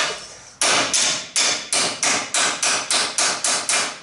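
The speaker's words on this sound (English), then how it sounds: "this is an LMG hammer" A hammer strikes a dirt late model race car chassis at the front upper shock mount, ringing out with about ten loud metallic blows in a steady, fairly quick rhythm, each hit decaying briefly before the next.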